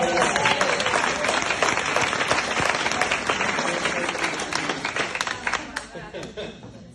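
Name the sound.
applause for a speaker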